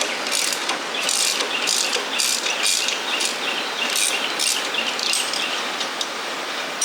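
A ratchet wrench clicks rapidly in repeated bursts while loosening 14 millimeter bolts on an MB200 mini bike during a tire and shock upgrade, close and fairly clear with no talking.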